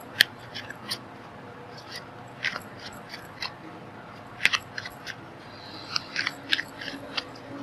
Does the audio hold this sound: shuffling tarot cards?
yes